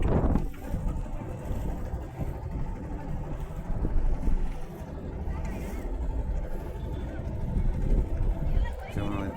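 A boat motoring along the Jamuna River at Sirajganj, with a steady low engine rumble and gusts of wind buffeting the microphone throughout.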